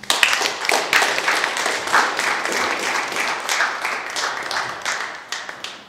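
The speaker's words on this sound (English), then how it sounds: "Let's clap it up for y'all." Crowd clapping at a live comedy and poetry night, lively and close, with a thick wash of many hands and some louder individual claps standing out, sustained for the whole stretch before tapering slightly.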